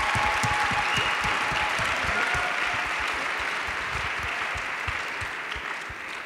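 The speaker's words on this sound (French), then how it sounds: "je crois qu'on peut les applaudir pour ça" A worship audience at a French Hillsong youth gathering claps in a dense, even round of applause that holds steady and eases slightly toward the end.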